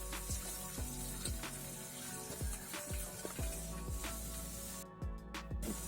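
Chopped ginger and two green chilies frying in oil give a steady, quiet sizzle with repeated soft stirring scrapes at a regular rhythm, close by, ending in a couple of brief sharp clicks.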